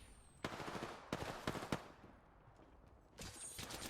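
Bursts of automatic gunfire from Apex Legends, several short rapid volleys separated by pauses, then a longer sustained burst near the end, fairly quiet overall with no talking.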